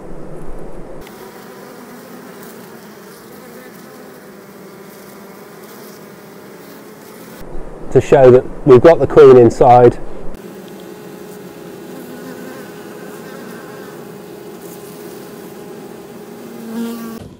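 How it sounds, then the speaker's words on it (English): A honeybee swarm fans at the entrance of a hive, making a steady, low, close buzzing that runs throughout. A person speaks briefly partway through. "You can see here's the bees fanning."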